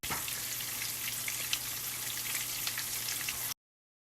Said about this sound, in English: I preheated my oil, so now we can fry it.